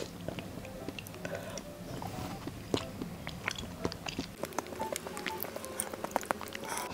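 Close, crisp biting and chewing of dessert such as pudding and taro sago, a steady run of small crunchy and wet mouth clicks with no talking, intimate and up-front.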